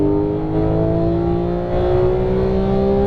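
A Porsche 911 GT3 (991.1) engine roars under hard full-throttle acceleration, its pitch climbing steadily, loud and close throughout with a brief dip in the middle.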